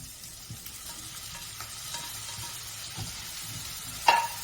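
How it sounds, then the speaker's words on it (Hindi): Onion, capsicum and tomato sautéing in a pan, a soft, continuous sizzle with faint stirring scrapes and one brief clink, heard close with no talking. "प्याज शिमला मिर्च भून चुका है। अब इसमें टमाटर ऐड करेंगे।"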